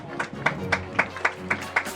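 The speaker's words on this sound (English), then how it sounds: "I'll bet you they would love just a little applause as they come onto the field." Crowd applause at an outdoor police K9 dog exhibition as the dogs come onto the field, light scattered clapping with a steady, evenly spaced beat of sharper claps, heard from a distance under a faint background murmur.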